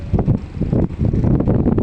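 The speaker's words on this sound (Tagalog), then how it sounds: "medyo umuulan at malakas ang hangin" Strong wind with light rain buffets the microphone in loud, continuous gusts, with low rumbling and rustling throughout and no voices.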